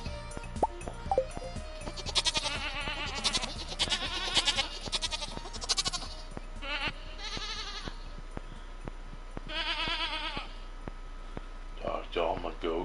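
Goats in the farming video game Stardew Valley give repeated bleats in several clustered bursts, fairly close and clear, with someone talking between and over some of the calls.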